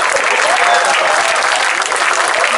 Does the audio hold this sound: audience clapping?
yes